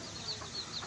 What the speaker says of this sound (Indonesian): Bambu petuk ini dihuni oleh ayam-ayam